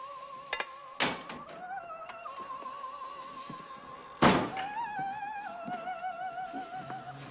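A screen door slams shut twice in a 1995 rural farmhouse setting, each a sharp loud bang several seconds apart, with a faint tonal music background between them.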